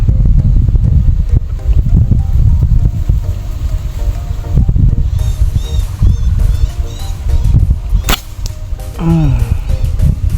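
Loud, blustery wind roaring constantly into the microphone, buffeting low and rough throughout, with faint background whistles and a sharp click near the end.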